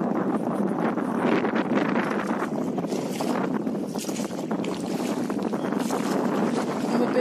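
Steady wash of water and wind buffeting during a paddle boat ride at Muttukadu boat house, a continuous close rumble of the boat moving across the backwater with no talk.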